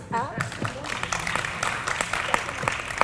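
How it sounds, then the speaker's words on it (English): Audience applause rises as a dense patter of clapping, with a voice heard briefly at the start over the crowd. "Everyone on the stage, shall we applaud for them?"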